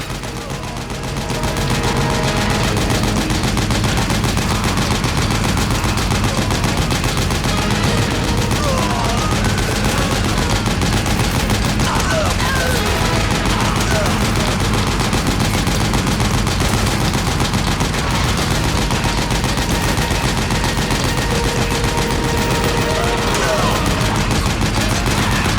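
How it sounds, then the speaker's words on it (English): Sustained gunfire aimed at a gate in Metal Gear Solid 4: Guns of the Patriots, a dense, steady barrage with continuous rattling shots and a low rumbling backdrop that holds loud for the full length. "Shoot the gate!"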